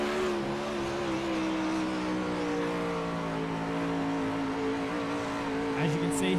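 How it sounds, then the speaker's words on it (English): A 360 sprint car engine heard onboard during a dirt-track race: a loud, steady, high-pitched engine drone that holds a constant roar throughout, close and dominant, with a voice talking over it. "Listen to this 360 sprint car motor on side"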